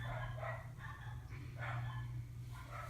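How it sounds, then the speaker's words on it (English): Several dogs bark indoors in a house, giving faint, distant, repeated barks in bursts over a steady low hum. "I have dogs, so I'm really sorry if you can hear them."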